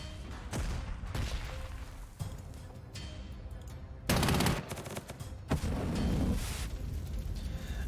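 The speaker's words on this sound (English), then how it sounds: "So let's start the bombardment." Artillery bombardment in the World War II strategy game Panzer Corps 2, a rapid series of loud booming blasts and rumbling impacts, with heavier overlapping explosions midway.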